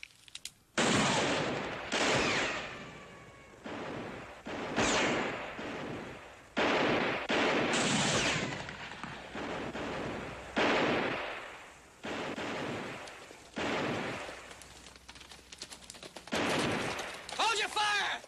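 Gunfire in a Bonanza Western TV episode: loud, sharp shots in repeated bursts and volleys, separated by brief gaps.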